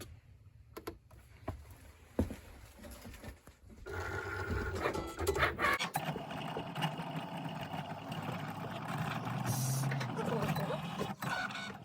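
A vinyl cutter slices a shirt design, its motor whirring and buzzing unevenly with short pauses and bursts, then settling into a sustained mechanical drone close by.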